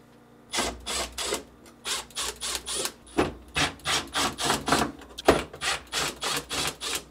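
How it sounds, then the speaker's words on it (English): Screws being backed out with a Phillips head screwdriver on a GE refrigerator, a close run of many quick rhythmic ratcheting scrapes and clicks in short repeated bursts. "remove the two screws holding them in place using a Phillips head screwdriver"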